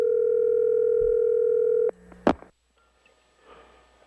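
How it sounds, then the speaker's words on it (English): A telephone dial tone hums steadily and loud for about two seconds while a call is placed on a Dallas sports radio show, then cuts off with a click and a short burst before near silence and faint noise. "We're going to try to call Big Tex"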